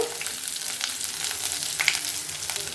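Curry leaves, a broken dried red chilli, crushed garlic and asafoetida fry in hot oil for a tempering, giving a close, continuous sizzling crackle with small pops and spatters throughout.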